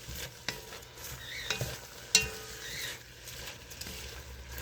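Onions frying in butter in a pan, a steady close sizzle with occasional stirring scrapes and utensil clicks against the pan.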